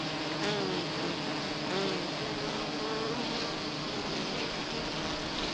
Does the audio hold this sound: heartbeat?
no